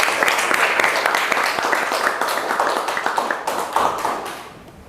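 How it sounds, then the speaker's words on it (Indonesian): Audience applause in a classroom-style teaching session on temperature and thermometers: a dense, steady patter of many hands clapping that stays fairly loud and fades toward the end. "kasih aplaus dulu ya"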